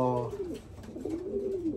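Pigeons coo softly and steadily, a low, rolling murmur of several birds close by.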